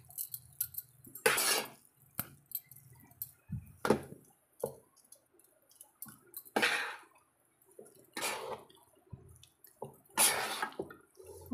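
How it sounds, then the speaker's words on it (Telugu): A spoon clinks and scrapes against a metal vessel while pulihora (tamarind rice) is mixed. Separate strokes come in an irregular rhythm, close and moderately loud, with quiet pauses between them. "మొత్తం అండి ఇలా మొత్తం కలిసేటట్టు"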